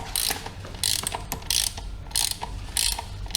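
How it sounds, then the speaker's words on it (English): Ratchet clicking in quick bursts while tightening a bolt clockwise on an Inokim electric scooter during battery replacement, several loud close clicking runs with brief pauses between them. "Using a wrench or ratchet."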